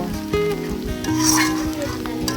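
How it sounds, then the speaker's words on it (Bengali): Spices crackling in hot oil as tempering for bottle gourd greens: a short, close burst of sizzling with a few clinks of utensils. "আমি লাউ শাকটাকে ফোড়ন দেব"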